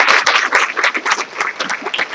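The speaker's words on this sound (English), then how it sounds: "let's give you a round of applause" Applause at a school board meeting for a retiring principal, a modest group clapping close by in quick, uneven bursts with individual claps easy to pick out.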